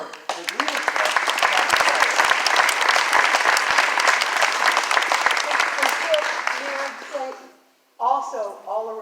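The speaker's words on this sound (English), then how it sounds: "So a round of applause for the leadership." A studio audience at a behind-the-scenes taping of the Chicago Tonight local news show bursts into loud, sustained applause for several seconds, then fades, and a voice resumes speaking at the end.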